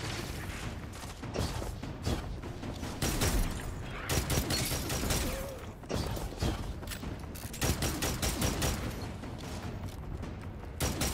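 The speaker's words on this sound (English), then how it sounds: "He wasting all them linear fusion shots." Rapid bursts of linear fusion rifle fire in a competitive video game crackle in dense volleys, clustered shots repeating loudly over several seconds with brief gaps between.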